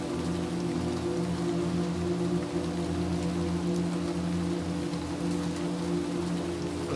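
Steady rain pours in the video game Little Nightmares 2, a dense, even hiss of drops on surfaces with a low droning hum underneath, continuous and fairly loud with no voices.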